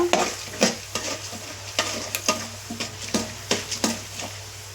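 Urad dal frying in hot oil in a pan, giving a steady sizzle broken by repeated sharp scrapes of a spoon stirring, close and moderately loud with no talk.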